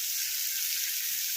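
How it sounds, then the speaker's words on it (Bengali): Thinly sliced onion frying in a generous amount of oil: a dense, even, hissing sizzle, close and steady throughout, with no stirring strikes or voices. "পেঁয়াজটা ভালো করে ভাজবো"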